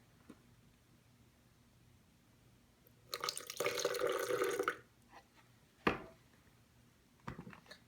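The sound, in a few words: water being poured into spinach and tomato soup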